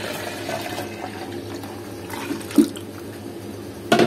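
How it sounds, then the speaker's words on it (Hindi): Strained watermelon juice pours steadily from a vessel back into a jug, a soft continuous liquid trickle with a couple of sharper splashes and clinks near the end. "अब मैं इसको वापस जग में डालूंगी"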